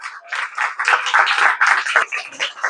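An audience at a student guidance talk breaks into a dense burst of applause that stays fairly loud and close, rising and falling in waves for a few seconds with no clear speech.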